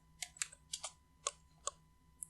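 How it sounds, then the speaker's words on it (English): Keys tapped on a computer keyboard while entering an email into a web form, about half a dozen close, crisp individual keystrokes at an uneven pace, with no talking. "And finally, we want to type email."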